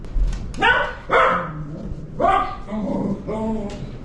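A dog excitedly barking and yelping at an animal on a television, several loud close barks in bursts with whiny yips between them, in an indoor room.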